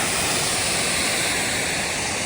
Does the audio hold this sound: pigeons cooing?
no